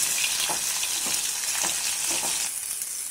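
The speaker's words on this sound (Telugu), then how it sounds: "గోల్డ్ కలర్ వచ్చే వరకు ఫ్రై చేసుకుందాం." Chilli garlic prawns frying in oil over a low flame until golden, a dense continuous sizzle with soft repeated stirring scrapes, close and fairly loud, with no talking.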